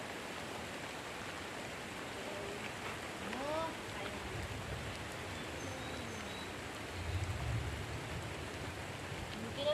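Soft, steady rain hisses in the background outdoors at a camp in the fields while pork chops grill, with faint talk and a few scattered sounds over it.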